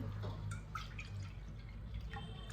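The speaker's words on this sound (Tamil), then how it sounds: "சரியா 4 பங்கு ஜலம் ஊற்றணும்." Water is poured into a cooking pot of washed rice and lentils for ven pongal, coming through as faint, steady splashing and dripping with no voices.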